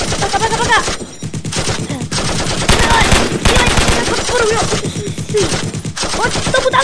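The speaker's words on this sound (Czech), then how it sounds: "zaměřuj střelbu, bacha, střílí po nás" Rapid bursts of automatic gunfire in a Minecraft World War II battle rattle continuously and loudly, with brief lulls between volleys and a voice shouting in the background.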